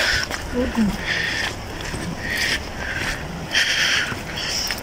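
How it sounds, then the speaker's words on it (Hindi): Heavy rain pours down steadily, a broad hiss that swells and eases in waves and sounds close by, with no talk over it. "फुल तेज़ बारिश स्टार्ट हो गई थी"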